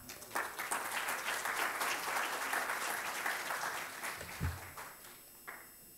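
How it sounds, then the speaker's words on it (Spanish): Audience applause at a civil code law seminar, a sustained round of clapping filling the room at moderate level, tapering off near the end. "Le brindamos también un fuerte aplauso."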